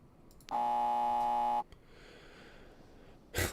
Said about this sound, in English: Loud, incorrect buzzer.